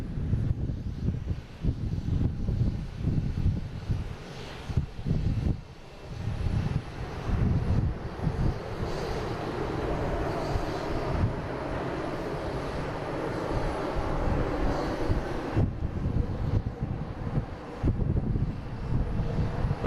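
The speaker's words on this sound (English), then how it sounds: "British Airways coming in from London Heathrow." A British Airways airliner arriving from London Heathrow and landing at Boston Logan International Airport, a broad low engine roar that swells and holds for the whole stretch, with wind buffeting the microphone and no speech.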